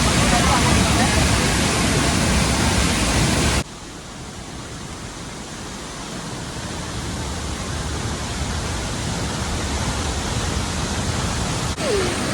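Nangartas waterfall plunges into a valley in the monsoon, a loud, steady roar of falling water that fills the whole clip, close and continuous, dropping slightly in level partway through.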